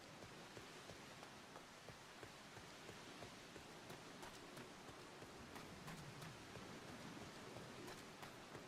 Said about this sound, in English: the rain is ridiculous